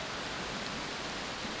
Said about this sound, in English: I'll do that later, because it's raining, finally.